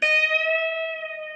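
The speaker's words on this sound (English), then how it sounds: "it should sound something like this real deep, spacey effect." A single sustained electric guitar note with a deep, spacey effect, ringing out with long sustain and slowly fading.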